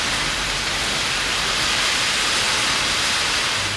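Heavy monsoon rain pours down steadily over Dharmapuri, Harur, Pappireddipatti and Morappur, forming a dense, continuous close hiss with no pauses and no voices.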